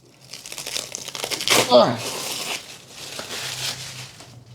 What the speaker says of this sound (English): So maybe just get rid of the cling wrap.